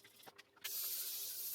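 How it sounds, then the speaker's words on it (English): Hairspray is sprayed onto hair in a butterfly haircut, a single close, steady hiss after a few faint handling taps. "I think we've got a bit of hairspray."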